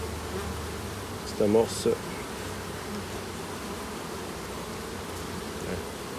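Honeybees buzz steadily throughout a July beehive inspection, a dense insect hum at moderate level with a brief burst of nearby speech partway through.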